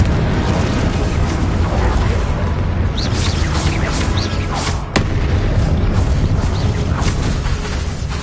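A Confringo fire-blast spell cast in a Harry Potter game booms amid constant dense battle noise, with a sharp crack near five seconds and several bright bursts between three and seven seconds.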